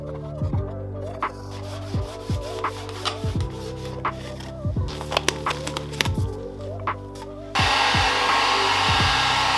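A heat gun blows across motorcycle parts while a sharp blade scrapes off decals and adhesive: a run of rhythmic rasping strokes over a low hum, then a steady close roar of blowing air.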